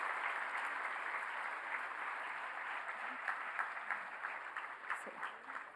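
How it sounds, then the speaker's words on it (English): Applause at a memorial oration, a steady wash of clapping from a seated audience that grows slightly more uneven toward the end, heard at moderate distance with faint voices mixed in. "So can we hear a huge, huge round of applause for Dr. Nir Barzilai"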